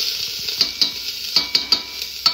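Vegetable curry is stirred and fried in a pan, with a constant bright sizzle and several sharp scraping clicks of the spoon against the pan, close and alone.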